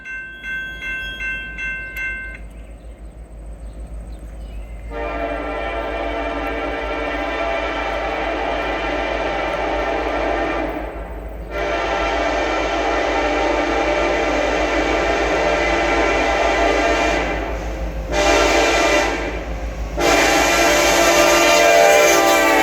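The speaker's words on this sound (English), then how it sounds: "eastbound train to Hagerstown, Indiana" An eastbound freight train passing near Hagerstown, Indiana: a brief horn toot, then a long loud horn blast that swells and holds over rumbling wheels, with the horn cutting in and out near the end.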